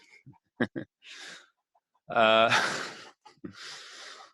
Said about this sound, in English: there's a little chicken action going on there